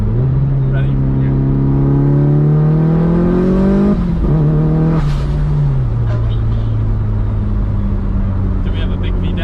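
A Mitsubishi Evo 5 accelerates hard in a shift test, its engine note climbing loudly, dropping briefly at a gear change, then pulling again with a steady roar close to the microphone.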